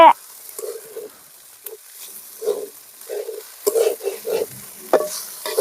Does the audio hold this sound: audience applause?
no